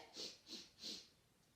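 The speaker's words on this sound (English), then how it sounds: "So just like a bunny, we sniff, sniff, sniff" Three quick sharp sniffs through the nose in a row, close and fairly soft, followed by quiet.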